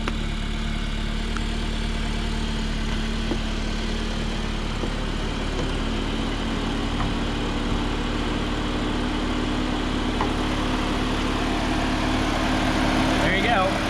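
A 2021 Jeep Wrangler JL Sport with a 2-liter turbocharged four-cylinder engine idles steadily, a continuous low hum with a faint rising whine near the end, no talk.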